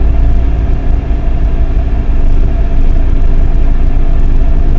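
Steady, loud rumble of a Jeep Grand Cherokee ZJ 5.2-litre engine running close by with a slight rise in revs partway through, continuous drone with no speech.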